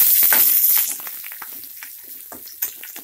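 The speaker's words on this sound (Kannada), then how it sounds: "1 ನಿಮಿಷ ಫ್ರೈ ಮಾಡ್ಕೊಳ್ಳಿ." Garlic and onion sizzle in hot oil with cumin and pepper. The frying starts loud and crackling, then settles into a softer sizzle with scattered pops and one sharper crackle near the end.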